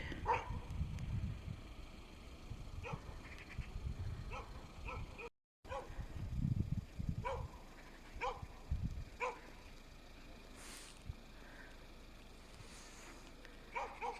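Several dogs bark in a street in Pechora, Komi Republic, short yips and woofs scattered at varying distances across the stretch, over low outdoor background noise.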